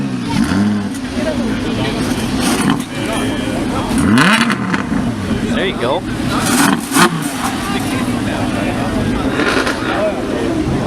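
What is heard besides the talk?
Jaguar F-Type sports car engine revving at a car meet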